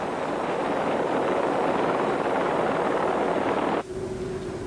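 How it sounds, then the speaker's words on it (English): A UK police helicopter searching a park overhead, its steady, heavy rotor drone filling the air loudly, then dropping off abruptly near the end to a quieter hum. "helicopter, call sign India 99, uses a heat-seeking camera to search the park"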